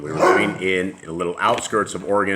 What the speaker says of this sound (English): that is my dog, and my apologies for him